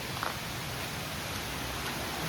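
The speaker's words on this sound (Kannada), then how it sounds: "ನೋಡಿ ಗಾಯ್ಸ್, ವಾಟರ್ ಫ್ಲೋ ಹೇಗಿದೆ ಬಿಸ್ಲೆ ಘಾಟಲ್ಲಿ" Water flowing at Bisle Ghat in rainy misty weather, a steady broad rushing hiss, even and continuous with no voices over it.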